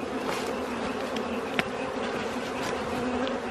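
A hive of bees inside a dishwasher, a dense, steady buzzing drone heard up close throughout with one brief click partway through.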